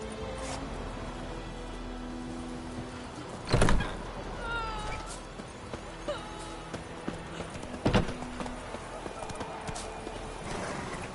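Horse hooves clip-clop at a walking pace in The Witcher video game, a steady rhythmic plodding over an ambient bed, with two louder thumps and intermittent voices in the background.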